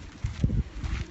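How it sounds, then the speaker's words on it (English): Gusty night wind in the foothills of Golden buffets the microphone in low rumbling bursts, loud and close, with no voices. "it's a little windy here tonight, so excuse the wind."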